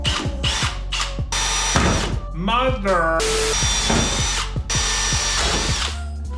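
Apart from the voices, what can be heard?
power drill drilling holes in a 1951 Ford rat rod door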